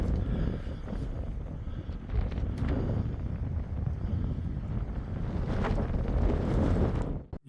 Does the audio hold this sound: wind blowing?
yes